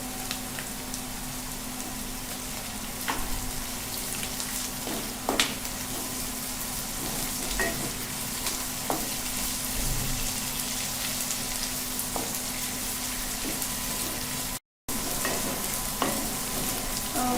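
Onions sizzle in hot oil with ginger, garlic and chili paste for a chicken biryani, a steady broadband fry broken by occasional stirring scrapes, close and continuous with no talking.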